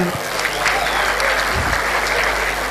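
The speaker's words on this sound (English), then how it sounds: "Please, a round of applause for them." Sustained audience applause for supporters at a political declaration event, a dense steady wash of clapping from a large crowd, with a low hum beneath.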